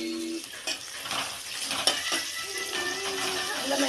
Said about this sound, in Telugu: అల్లం అయితే వేసిన, ఇలా వేయిస్తున్నా చూడండి.